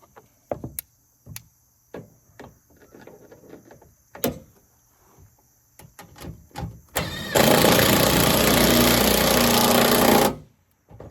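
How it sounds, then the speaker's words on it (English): A cordless impact wrench on its medium setting fastens a Go Rhino Molle panel, a loud continuous burst of about three seconds coming after a series of light clicks and handling knocks. "I'm running my impact on the medium setting, so that way it's not torquing up too tight."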